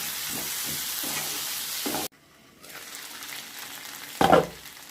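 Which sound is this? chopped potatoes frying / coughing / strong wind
chopped potatoes frying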